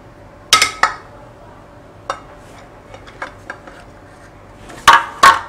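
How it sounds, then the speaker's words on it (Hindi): A knife run around the edge of an eggless Parle-G biscuit cake in a kadhai to loosen it, giving scattered metallic clinks and light scrapes, a few sharper knocks near the start and end, close and without talk. "नाइफ की सहायता से हम चारों ओर से केक को ऐसे करके थोड़ा ऊपर कर लेंगे ताकि ये आसानी से प्लेट में निकल आए।"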